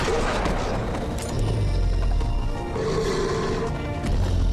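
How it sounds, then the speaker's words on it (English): Loud, dense bursts of gunfire and booming blasts in the game The Wolf Among Us, with a low rumbling roar throughout and some voices mixed in. "all the people in this town just hearing gunshots like that"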